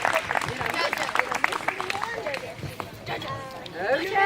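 A family reunion gathering breaks into clapping and cheering for the children, busy and fairly close, with voices chattering and calling out through the applause.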